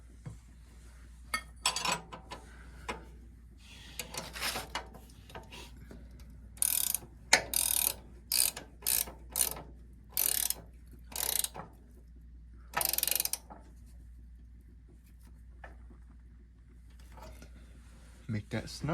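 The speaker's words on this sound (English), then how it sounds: "So for this part, we'll need 2 wrenches." Two wrenches work bolts on a Cub Cadet Original's 3-point lift, giving bursts of close ratchet clicking that come in short runs separated by pauses and an occasional metallic clink.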